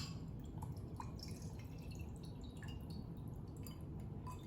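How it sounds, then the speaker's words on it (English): Drink poured over ice into an Aperol glass while making an Aperol spritz, heard as faint, steady dripping and trickling liquid with small glassy clinks, quiet and close, with no talk. "I'm gonna grab this ice in there just to fill her up. I'm gonna go ahead and do a pour."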